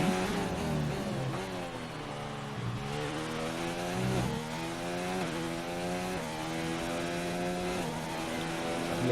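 A race car engine in a video game racer runs down the back straight at Bahrain, revving hard and shifting up through the gears in a repeated rising-whine pattern, steady and close with no voices.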